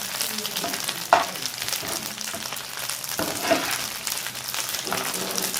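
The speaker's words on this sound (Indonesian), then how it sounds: "Kita goreng sampai renyah." Spiral macaroni fries in hot oil until crispy, a steady dense crackling sizzle with a few sharper pops and occasional stirring clinks, close and continuous without talk.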